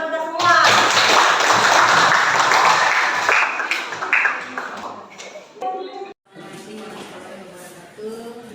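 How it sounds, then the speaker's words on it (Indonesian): A classroom of students claps together after a prayer, a dense burst of applause that swells loud at first and gradually thins, with voices and chatter running underneath before it fades out. "Oke, tepuk tangan untuk kita semua."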